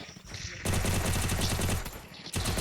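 Rapid automatic gunfire from a shooter video game crackles in dense, continuous bursts, loud and close, with a brief pause before another burst begins.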